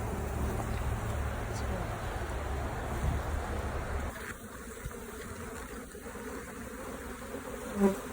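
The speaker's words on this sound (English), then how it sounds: "Oh, so there's a lot of bees in this one." Honey bees swarm with a steady close buzz around an open brood frame lifted from a hive. The buzzing is loudest at first and eases slightly midway, with faint voices in the background.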